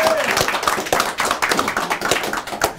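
Audience clapping for the judges at a competition final, a steady crowd of rapid hand claps with a voice audible over it.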